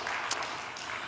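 A church congregation gives a brief burst of dense, fairly soft applause during a sermon, a steady wash of many hands lasting about a second.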